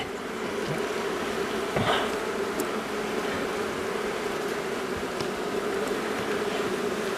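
Honey bees fly around a hive entrance in November, a steady close buzzing hum with individual bees zipping past now and then.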